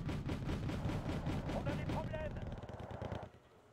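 The MX-13 fires in a video game, a rapid rhythmic burst of loud repeating shots that keeps going, then cuts off abruptly near the end.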